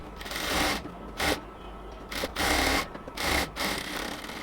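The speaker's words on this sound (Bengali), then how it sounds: "এবার পট্টিটাকে ঘুরাই ধরে এবার সেলাই করব" A sewing machine stitches a fabric strip onto small baby shorts, running in several short bursts of rapid whirring with brief pauses between, close and clear, with no talking.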